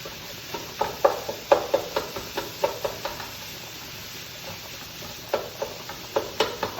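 A flat-edged wooden spoon breaks up ground turkey in a hot pan, giving repeated sharp scraping knocks in an uneven rhythm over a faint sizzle, close and clear, with a short pause midway.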